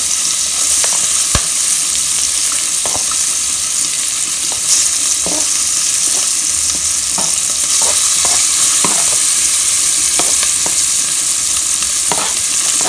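Butter melts and seasoning fries in a hot pot, making a loud, continuous close sizzle broken by scattered sharp scrapes and clicks of stirring.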